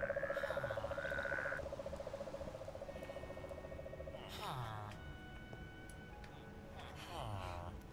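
Toads croak in modded Minecraft, a long buzzing trill followed by shorter rising warbling calls, close and loud, with a voice talking over parts of it.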